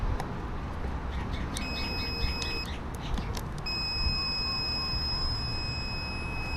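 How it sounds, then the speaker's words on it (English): A GOOLOO GP29 pocket jump starter clamped with reversed polarity sounds a high electronic warning beep, steady tones emerging partway through over a loud broadband background noise, no talking. "And just like it said, it would beep and the red light would come on saying that it's reversed."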